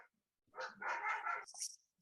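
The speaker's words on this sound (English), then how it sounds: "My dogs are screaming." Dogs bark and yip in a short, close burst lasting about a second, with high whining cries at the end.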